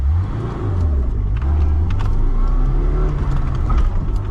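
A 2010 LADA 2107 with a 1.6 manual gearbox accelerates hard from standstill toward 60, its engine droning loudly and steadily from inside the cabin with a rising whine.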